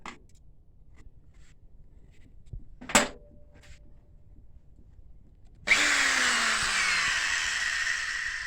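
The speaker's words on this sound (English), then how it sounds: "so it's gonna be easier to drill" Quiet at first, then a sharp click, and after a pause a power drill whirs loudly and steadily, biting into plastic on a UV printer for the final few seconds.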